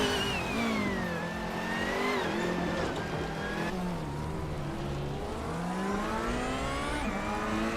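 A classic 1985 Peugeot 205 T16 Evo 2 and rival rallycross cars race at Los Arcos in a racing game, engines revving steadily and shifting pitch as they accelerate, a continuous loud mechanical roar with faint tire noise.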